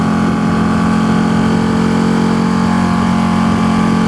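A Ducati 1299 Panigale S two-cylinder engine runs steadily and loudly close by, a constant droning hum with no change in pitch and no talk.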